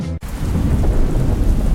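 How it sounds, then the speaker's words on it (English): Loud, close thunder roll with rain-like rumble, starting after a brief cut at the very beginning and sustaining steadily to the end. "Lightning Lad, roll the thunder."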